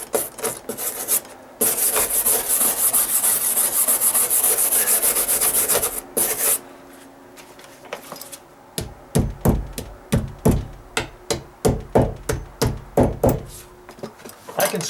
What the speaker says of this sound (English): I can scrape this easier when these staples are down too.